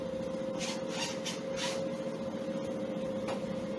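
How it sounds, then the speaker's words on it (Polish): Washing machine spinning up beside a household boiler, giving a steady motor whine with a constant hum and a few soft swishing bursts, with no voices. "No, pralka się nam rozkręca."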